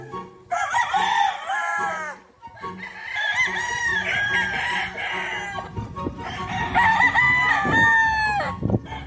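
Gamefowl roosters at Salauli Farm in Barangay Bundok, Calapan City, Oriental Mindoro crow in repeated long calls close by, overlapping with clucking and other birds in the background.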